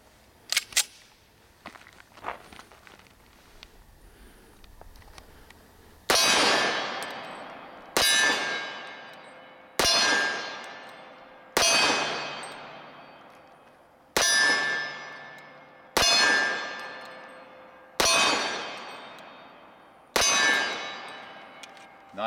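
Standard Manufacturing color case engraved 1911 pistol fired one-handed with .45 ACP rounds: eight loud, sharp shots at steady two-second intervals, each ringing out with a long decaying echo, after a few faint clicks.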